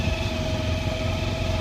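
Bajaj Pulsar motorcycle engine running steadily on a rainy ride, a close, continuous buzzing drone with an even tone and no voices.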